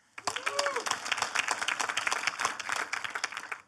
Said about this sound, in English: Big round of applause for Bart.